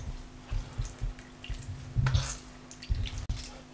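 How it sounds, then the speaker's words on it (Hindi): Water drips and trickles from mozzarella curds as they are squeezed by hand: irregular, close drips and short splashes over a faint hum, fairly quiet and with no talking. "इसको निचोड़ते रहें ताकि एक्स्ट्रा से जो इसका अंदर पानी है वो निकल जाए।"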